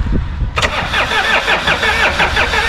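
A Renault Espace engine cranks briefly and catches, then settles into a steady, close, loud idle with a rhythmic pulsing, no voices over it.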